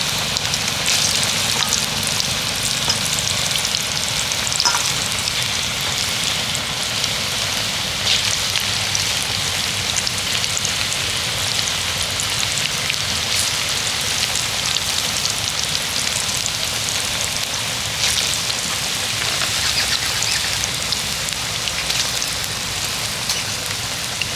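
Potato and onion pakoras deep frying in hot oil, giving a dense, even crackle and bubbling that holds steady throughout, close and with no voices.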